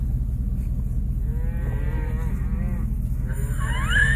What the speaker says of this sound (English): There are tons of cows in the road.